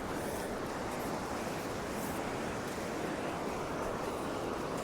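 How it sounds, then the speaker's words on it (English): Waves breaking on Upgang Beach during a sea fishing match, a continuous loud roar of surf mixed with wind buffeting the microphone, steady throughout with no speech. "So we're just casting out into that breaking waves."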